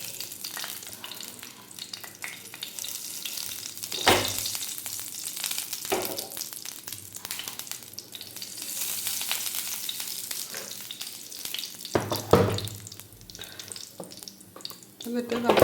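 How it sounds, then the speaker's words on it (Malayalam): Mustard seeds crackle and splutter in hot coconut oil at the start of making semiya upma: a steady, close hiss of frying with scattered sharp pops and a few louder bursts, no voices over it. "എന്നിട്ട് കടുകിട്ട് പൊട്ടിക്കുക."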